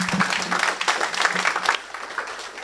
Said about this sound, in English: So let's give a big round of applause to Kwaku Sakyi-Addo.